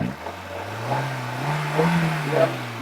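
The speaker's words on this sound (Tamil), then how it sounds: "இங்கே பாருங்கள், வண்டி ஓடிட்டு இருக்குது." A Maruti Suzuki Wagon R car engine idling steadily nearby, a low continuous rumble that swells slightly a couple of times.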